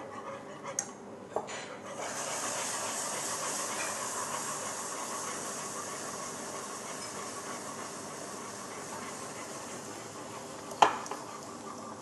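Whipping cream poured into hot coffee-infused caramel and stirred sets off a loud, steady steamy hiss that runs for several seconds, ending with a sharp clink of a utensil.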